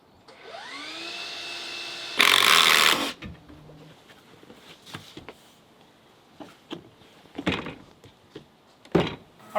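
Power saw spinning up and making a short, loud cut through deck boards during deck building, followed by scattered knocks and thuds of boards being handled, nearby and without talk.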